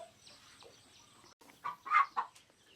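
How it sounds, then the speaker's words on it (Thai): A hen clucks softly in a few short, low calls, close by, with faint chick peeps and a quiet farmyard background. "แม่ไก่ตัวนี้ก็ค่อนข้างที่จะเลี้ยงลูกดีนิดนึงครับ"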